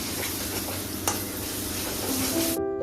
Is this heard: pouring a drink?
no